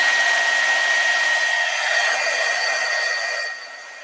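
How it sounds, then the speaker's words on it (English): A heat tool blows steadily while heat-setting embossing powder on a stamped card, a loud continuous hiss that drops off slightly near the end, with no talking. "And then I'm going to heat set it."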